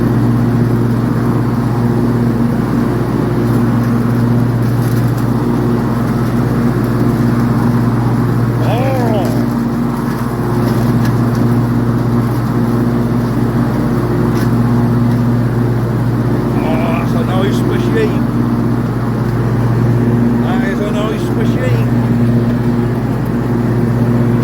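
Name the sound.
ride-on lawn mower driving with blade engaged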